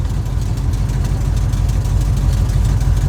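A hot rod engine idles close by with a loud, lumpy, pulsing throb that stays steady and unbroken from start to finish.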